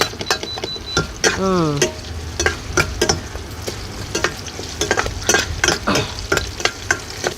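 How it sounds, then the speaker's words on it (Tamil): Crushed garlic and coconut mixture sizzles and crackles steadily in a hot pan for a kappa (tapioca) biryani, with brief scraping stirs and a short voice-like warble early on. "தேங்காயும் தேங்காய் பூவும் பூண்டு நசுக்கின கலவை அதை போட்டுக்கலாமா? இது கொஞ்சம் வதங்கட்டும்."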